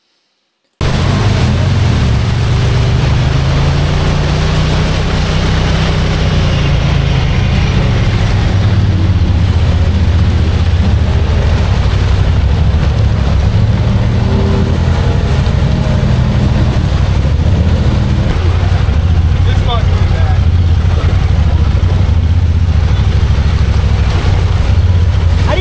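Honda Pioneer 500 and 1000 side-by-sides roar through deep mud on a north-side trail, engines droning loud and steady with revs rising and falling as they spin donuts, drowning out everything else.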